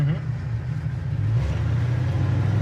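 A 1966 Chevy Nova SS engine idles steadily with a low hum, then revs up briefly before settling into a constant drone, heard close.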